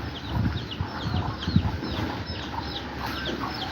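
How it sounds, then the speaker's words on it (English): Chickens on a farm in Aklan, Philippines, cluck and murmur nearby at morning feeding in a busy, overlapping chorus, with occasional higher calls and soft rustling from the flock. "We're gonna head here to feed chickens."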